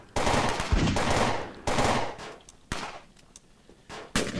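Automatic gunfire from the zombie shooter game Fort Zombie rattles out in several long, loud bursts separated by short gaps, close and dense, with no speech over it.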